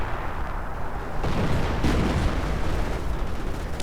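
Artillery in a Soviet versus Wehrmacht strategy video game battle, with dense rumbling booms and heavy blasts swelling midway over continuous low battlefield noise, no voices.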